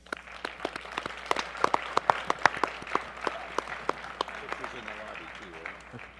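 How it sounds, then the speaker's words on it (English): An audience at an esports awards ceremony applauds with steady, sharp overlapping claps, moderately close and continuous for several seconds, thinning slightly toward the end. "So let's give a round of applause for all of ourselves here."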